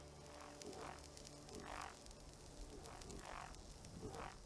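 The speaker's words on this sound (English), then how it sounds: "Oh, it's a frog?" A frog in Fallout 76 croaks in slow, repeated throaty pulses, about five evenly paced calls over a steady hum and static hiss, with no talking.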